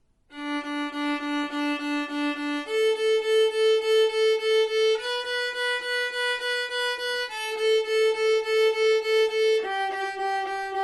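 A viola plays eight sixteenth notes per note in a steady Mississippi rhythm across the Twinkle Twinkle Little Star theme, moving through several pitches. The bowed strokes are even, pulsing and close, with no voice over them.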